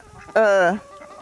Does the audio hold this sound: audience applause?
no